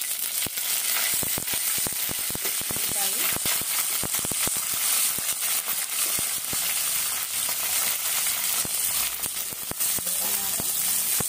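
Dried red chilies and curry leaves crackle and sizzle in hot oil, a loud, continuous fry with many sharp pops and spatters throughout, close up and without talk.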